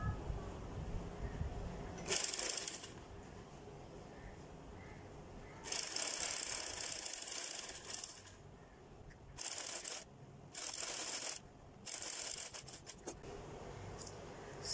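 A sewing machine stitches a trouser hem in several short, whirring runs separated by quiet pauses, the motor and needle clatter starting and stopping close by.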